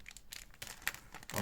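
A small clear plastic bag being opened for a 1:35 scale model kit, with a few short crinkles and rustles, close and quiet, in separate bursts over a second or so.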